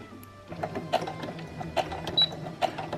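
A domestic sewing machine stitches a bra in short mechanical bursts with a few clicks and needle taps, close and moderately loud.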